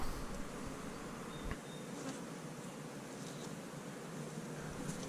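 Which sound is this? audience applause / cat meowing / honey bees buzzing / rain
honey bees buzzing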